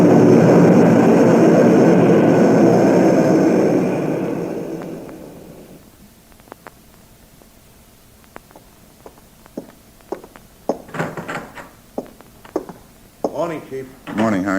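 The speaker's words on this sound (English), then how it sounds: "Hey, listen. The plane." Propeller airplane droning overhead in an old-time radio crime drama, loud and sustained before fading away over several seconds, followed by scattered footsteps and clicks.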